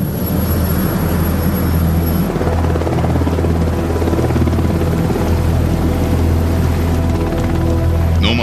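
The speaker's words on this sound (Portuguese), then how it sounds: "O Sea King é o helicóptero clássico de busca e salvamento." Sea King search and rescue helicopter, loud and steady, its rotor and turbine drone filling the whole stretch without pause.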